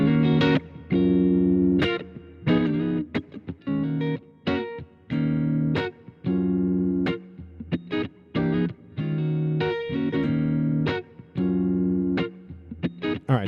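Electric guitar loop played through a distortion pedal into an amp, loud fuzzy distorted chords in choppy repeating bursts with short gaps between them.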